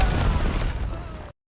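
A grenade explosion in the video game Hunt: Showdown, a loud, broad, low-heavy blast with a rumbling decay that cuts off abruptly.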